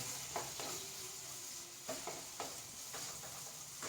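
Onions and green chillies sauté quietly in a pan for a roasted-coconut prawn curry, with a faint hiss and a few light stirring taps spaced out.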